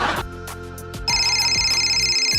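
A mobile phone rings in a village home, a repeating electronic ringtone playing loudly on its own, shifting to a brighter melody partway through.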